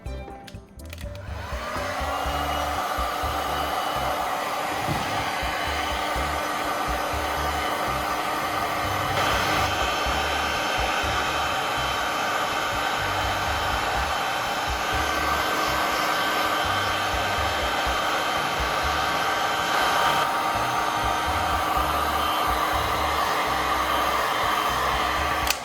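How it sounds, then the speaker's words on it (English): A heat gun blows a steady, loud whooshing roar while warming a plastic tube to soften it, running continuously from a brief start-up with no pauses or talking. "Using a heat gun, I'm going to gently warm up the plastic so it becomes flexible and easy to work with."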